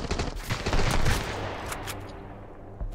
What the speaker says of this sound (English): he does have a machine gun